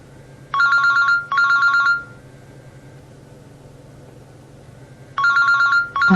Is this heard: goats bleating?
no